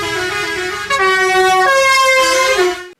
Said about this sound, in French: fait monter un klaxon, double fanfare à air comprimé